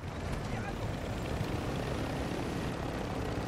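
A helicopter in Call of Duty DMZ gives off a steady, loud rotor and engine drone with no letup over the few seconds.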